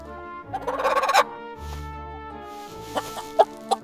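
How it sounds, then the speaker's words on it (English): A hen clucks in an animated fairy tale, a close burst of busy clucking followed by a lower note and then a few short, scattered clucks, with no speech over it. "This time, he saw a hen that laid golden eggs."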